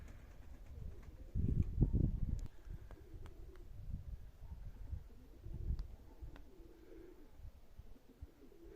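Baku pigeons in winter giving soft, low cooing calls in short bursts, close by but faint, over a quiet outdoor background.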